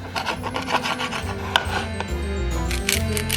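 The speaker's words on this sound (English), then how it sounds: "Now you can start slicing up your pork bellies into tiny pieces." A knife slices pork belly into tiny pieces on a board, close rapid scraping and rubbing strokes with occasional sharper knocks, steady and unaccompanied by talk.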